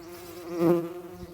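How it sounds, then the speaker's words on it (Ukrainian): A steady buzz of bees around a hive hums on, swelling briefly louder in the middle as bees pass close, then settling back to a lower drone. "Погляньте бджоли у вулику і бджоли поза вуликом."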